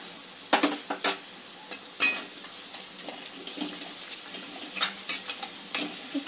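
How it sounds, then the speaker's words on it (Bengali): Spice paste stirred and sautéed in a hot pan, a soft steady sizzle broken by repeated scraping strokes of a spatula against the pan. "একটু ভালো করে মশলাটা কষে নেব।"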